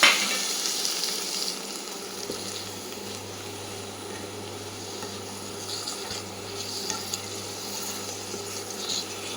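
Tamarind water, about a gooseberry-sized portion, is poured into a hot pan for a curry, bringing a sudden loud splash into a continuous bubbling sizzle that holds steady, near and without talk.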